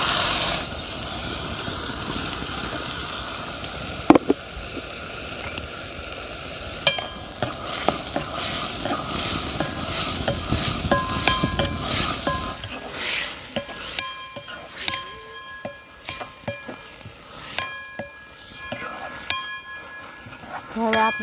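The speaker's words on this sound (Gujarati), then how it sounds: "રાઈ કકડી ગઈ છે હવે નાખી દઈએ આપણે જીરું હું નાખશું મીઠો લીમડો" Mustard seeds, cumin and curry leaves sizzling in hot oil for Kathiawadi dahi tikhari, a loud continuous sizzle with stirring and metal clinks that later thins to scattered crackles.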